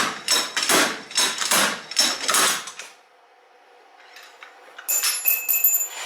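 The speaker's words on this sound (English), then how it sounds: "You pull to keep the tension, and then slide the hammer." Slide hammer pulling a failed rear wheel bearing from a Subaru WRX STi, a rapid run of about eight sharp metallic impacts close up, then a pause and a lighter clattering scrape of metal parts.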